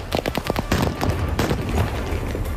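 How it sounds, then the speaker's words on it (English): Volleys of gunfire at a civilian protest, rapid bursts of sharp shots in quick succession followed by scattered cracks, fairly close and loud. "Gunfire renting the air and smoke filling the scene as civilian protesters ran for cover to escape volleys of gunfire."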